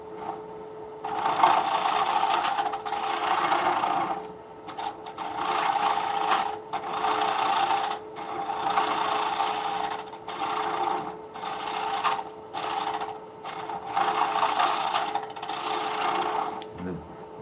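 A lathe gouge removing the tenon from a 6x2 oak dish, heard as close, rhythmic bursts of dry scraping and rasping, with short pauses between passes and a steady motor hum beneath.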